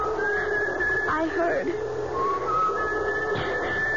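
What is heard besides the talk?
someone whistling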